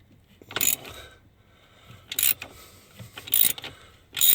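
A ratchet wrench loosening bolts on the steering column of a Hyundai Sonata Hybrid, heard as four short, close bursts of metallic clicking separated by quiet gaps.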